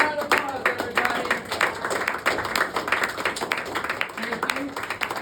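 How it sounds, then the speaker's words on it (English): An audience claps in sustained applause at a disability community advocacy event, a dense steady patter of many hands that stays loud throughout, with some voices mixed in. "Let's give them another round of applause, everybody."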